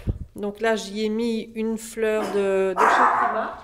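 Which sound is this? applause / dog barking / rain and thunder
dog barking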